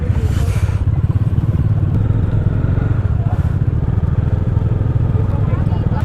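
Motorcycle engine running steadily close to the mic on a slippery mountain road in winter Spiti Valley, a loud continuous rumble with wind buffeting and occasional clatter throughout.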